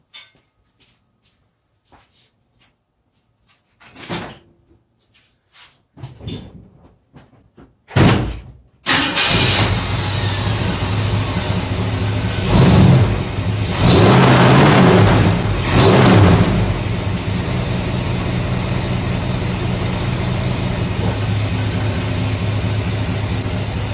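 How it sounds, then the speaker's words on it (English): A Ford Mustang engine cranks and catches with a loud roar after a few quiet clicks and a door sound, then settles into a steady, rumbling idle with occasional revs up close. "it's always cool to hear a Mustang start up and a Mustang idle"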